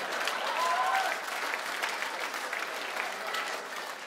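A comedy club audience at a stand-up set breaks into steady, dense applause that holds at an even level, then eases slightly toward the end with no talking over it.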